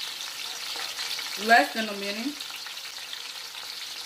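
Liberian okra and bitter balls fry in a pan with a steady, close sizzling hiss, which swells briefly around a stir while a voice speaks over it.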